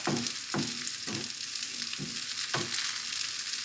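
Eggplant omelette (tortang talong) sizzles steadily in hot oil, a dense continuous frying hiss with several soft scraping or turning thumps spaced about half a second apart, no talking.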